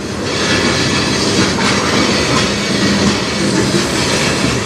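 A CN manifest freight train led by locomotives 3185 and 5629 rolls past close by on the Strathroy Subdivision, a loud continuous rumble with rhythmic wheel clatter throughout.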